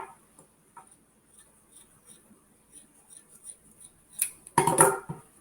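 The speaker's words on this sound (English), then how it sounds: "you're going to take the sock that you want for the outside of your mask. And then you're just going to cut off the bottom part" Scissors snip off the bottom of a fabric sock for a homemade face mask, a short close burst of cutting near the end after faint rustling and handling.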